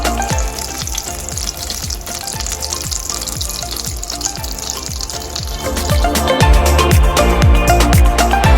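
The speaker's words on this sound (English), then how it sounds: "when you're frying your croquettes, you don't overcrowd the frying pan because you don't want to drop the temperature of the oil" Croquettes fry in hot oil in a frying pan, a continuous crackling sizzle with rapid popping bursts that grows louder and busier toward the end, with no talking.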